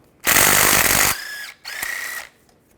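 A power tool spins out the starter bolts with a 15mm socket on a 2005-2010 Chevrolet Cobalt during a clutch slave cylinder job: a loud close whirring burst, a brief pause, then a second, higher whine.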